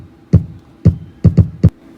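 A distorted kick drum built from a cut fart sample, with five punchy low thuds in an uneven beat pattern. It is loud and stands alone with no voices.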